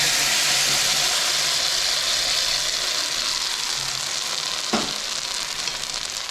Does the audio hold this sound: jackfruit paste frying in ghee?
yes